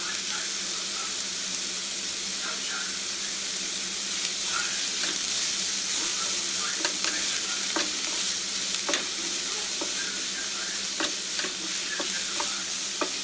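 Chili mixture frying in an oiled pan for a tomato omelet, a dense continuous sizzle with scattered clicks and scrapes of a spatula stirring, close and steady with no talk.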